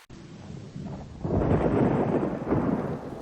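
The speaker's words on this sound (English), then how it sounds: "Rain lashed against the windows of the dilapidated Victorian mansion, the wind howling like a tortured soul" Steady rain pours down while low thunder rolls in and swells, then rumbles on heavily for a couple of seconds before fading a little.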